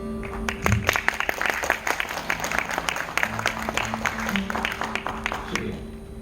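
Audience at a Diwali gathering applauding, a steady patter of many hands clapping at moderate distance with a faint murmur and tones underneath.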